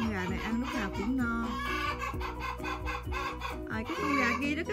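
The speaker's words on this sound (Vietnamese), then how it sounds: "Cái con gà kia nó cứ kêu suốt ở trong chuồng" Chicken in a coop clucking repeatedly in short rising calls, close and prominent, with other hens faintly around and a person speaking alongside.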